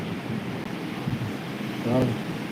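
A steady roar of strong wind at the seashore, with surf and microphone buffeting filling the background and a faint voice surfacing briefly near the end.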